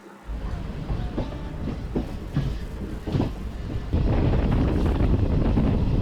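A Nagarsol–Narsapur superfast express passenger train rumbles along steadily between Gudivada and Kaikaluru, with rattling and clanking carriages and wind buffeting the microphone, growing louder toward the end.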